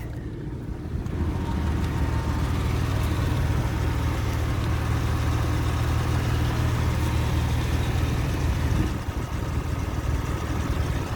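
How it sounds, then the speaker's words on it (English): A 2004 Porsche Carrera 2 cabriolet idles nearby with a steady, low, throbbing engine rumble that holds evenly for about ten seconds, with no talking over it. "We're just going to sit here and listen to the motor real quick."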